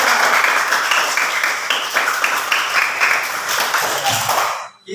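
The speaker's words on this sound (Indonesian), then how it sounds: "tepuk tangan untuk kita" A group of students in a classroom claps together for their own group after a presentation, with distinct, brisk rhythmic claps fairly close by, before the clapping abruptly stops at the end.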